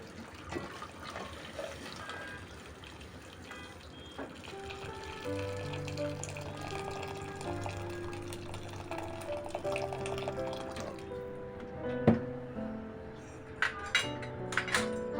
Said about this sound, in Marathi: हे गरम पाणी करून घेतलेलं आहे मी ते टाकून घेऊया